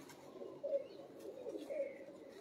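Pigeons coo softly in a couple of low, rounded bursts, faint and slightly distant against a quiet background.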